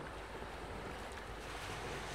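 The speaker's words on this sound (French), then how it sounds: "Laissez le rythme des vagues vous bercer lentement." Steady ocean waves wash and rush in a continuous broadband hiss, moderately quiet, with no voices.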